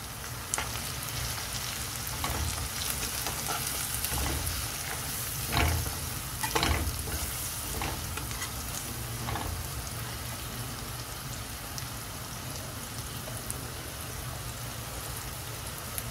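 Onions and dry roast spice powder fry in a pan for mutton sukka, giving a continuous soft sizzle and crackle with occasional louder pops and stirring scrapes, close and steady with no talking.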